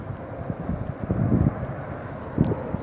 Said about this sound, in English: Coming down from Charles de Gaulle Airport, this Air France 747-400.